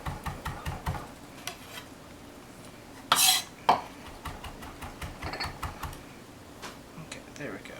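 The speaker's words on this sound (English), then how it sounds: "you're just going to take the garlic and you're just going to keep cutting it back and forth like this" A knife mincing garlic on a cutting board with quick back-and-forth strokes, giving a rapid run of light close taps and clicks with one louder clatter partway through.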